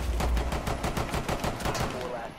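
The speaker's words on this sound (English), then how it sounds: "Just hear me going ham with my pistol." Fast, evenly spaced pistol shots crack in a quick string during a close-quarters round of Rainbow Six Siege, loud and punchy, around a dozen rounds in under three seconds.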